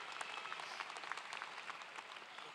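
Sustained applause for the mayor from a large crowd at a university undergraduate commencement ceremony, a steady, moderately distant wash of many hands clapping.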